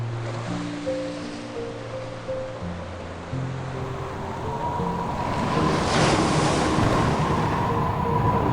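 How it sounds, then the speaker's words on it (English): Rough wind and crashing ocean waves surge as a sound effect for an animated story's sea voyage, a steady roar that swells louder toward the end under a low musical drone. "On their voyage, they encountered rough winds and massive waves."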